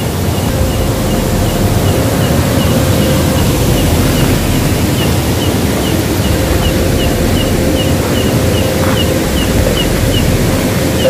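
A river flows beneath the Kalisari bridge in Malang, a steady broadband rush of moving water that holds level for the whole stretch, with no speech over it.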